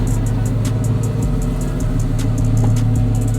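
Engine of a 2024 twin-turbo Ford F-150 truck driving, a loud, close, steady low rumble with slight rises in revs and faint clicking throughout, no voices.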